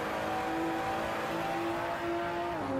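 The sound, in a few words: sim racing car engine revving as the driver gets on the throttle, from a video game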